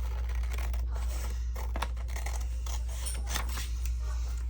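Scissors cut through paper card for handmade specimen-style journal cards, giving a steady run of close, crisp snipping and rasping strokes over a constant low hum, with no talking.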